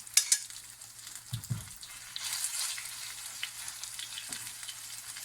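Chopped vegetables and semolina tipped into a hot tempering pan with curry leaves for Gujarati handvo, giving a bright steady sizzle with a few stirring scrapes and clinks, close up and without speech.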